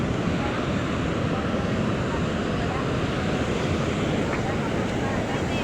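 Sea waves wash steadily onto a beach in La Union, a dense, continuous roar mixed with wind buffeting the microphone, loud and close with no distinct breaks.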